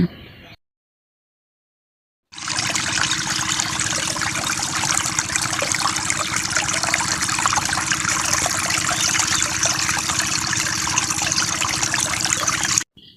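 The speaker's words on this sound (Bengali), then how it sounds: "এই ছোট্ট নালাটি দিয়ে অসংখ্য চাষের জমিতে সেচ দেওয়া হয়। এই পানি পড়ে অসংখ্য চাষিদের ক্ষেতের জমিতে।" Water runs through a small irrigation channel feeding village paddy fields, a steady close trickle and gurgle that starts after a brief silence and continues evenly to the end, with no talk over it.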